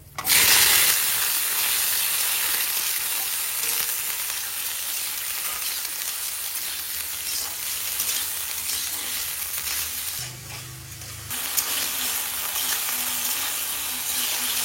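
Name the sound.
potatoes frying with bay leaves and dried chilies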